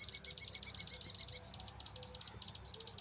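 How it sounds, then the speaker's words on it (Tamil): A flock of house sparrows in a rice paddy field gives a faint, continuous stream of quick repeated chirps against a soft outdoor background. "சிட்டுக்குருவி கூட்டமாக இருக்குது நம்ம நெல் வயலில்."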